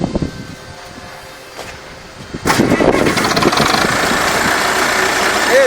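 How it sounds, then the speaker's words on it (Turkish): A farm tractor engine cranks and starts after a quiet moment with clicks, then settles into a loud, steady rattling idle as it drives a barley feed grinder. "Bunun için de traktörümüzü çalıştıralım."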